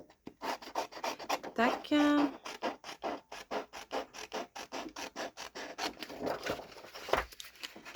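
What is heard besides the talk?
cutting out a paper outline for scrapbooking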